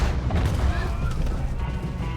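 Gunshots in the video game Red Dead Redemption 2, low booming reports under a busy rumbling battle mix, fairly muffled and continuous rather than crisp single shots.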